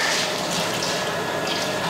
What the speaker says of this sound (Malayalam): സൺഫ്ലവർ ഓയിൽ ഒഴിക്കാം.